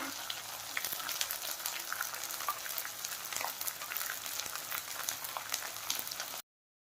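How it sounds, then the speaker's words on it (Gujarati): Edible gum (gond) fries in very hot ghee while making adadiya pak, a continuous dense crackle and sizzle of bubbling fat, steady and close, with no voices. "આ રીતના આપણે બાકીના ગુંદને પણ તળી લેશું।"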